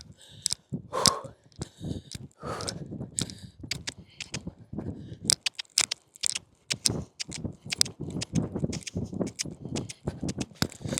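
A horse canters in a circle around a yard, its hooves thudding in a steady rapid rhythm close by, mixed with sharp clicks, rustling and occasional heavy breathing.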